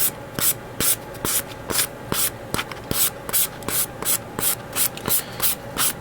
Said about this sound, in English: sand it down with the sanding stick